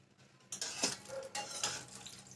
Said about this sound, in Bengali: কাজু বাদামটা লো ফ্লেমে ভাজবো